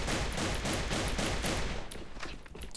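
AK-12 rifle fire in a first-person shooter, with a loud, dense run of rapid shots in steady rhythm that thins into a few scattered bursts near the end.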